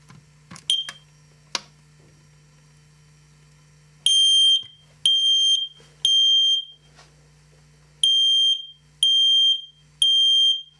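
A smoke alarm sounds in a run of loud, shrill electronic beeps, six clean bursts of about half a second to a second each in the second half, after a few softer clicks and a steady low hum at the start.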